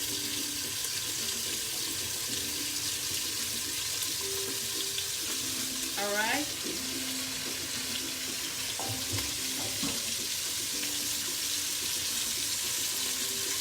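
Food browning in a pot for Creole jambalaya gives a steady low sizzle with faint clinks of stirring, running alone without talk throughout.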